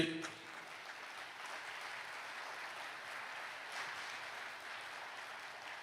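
A church congregation claps hands together at a Christian talk, a steady, dense wash of applause that holds evenly for several seconds at moderate distance, without voices over it.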